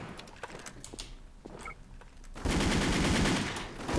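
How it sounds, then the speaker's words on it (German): Automatic gunfire in the online shooter Wolfteam starts with scattered distant shots, then erupts into a loud, sustained close-range burst for the last second and a half. "Oh, ich habe meinen Teamkameraden angeschossen."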